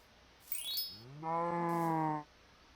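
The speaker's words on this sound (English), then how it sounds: "And then I go and collect a couple more cows" Two game cow moos in Magicraft, a short higher-pitched bellow followed by a longer, deeper sustained moo with rich tonal harmonics, clear and close against a quiet background.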